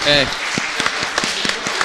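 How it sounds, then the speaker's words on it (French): A brief burst of voice gives way to scattered audience clapping at a live podcast game show, a thin patter of separate claps rather than a full ovation. "On peut les applaudir."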